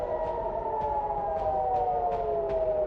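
A wailing air raid siren sounds steadily from a distance over Tel Aviv, its tone sliding slowly, with faint regular ticks underneath.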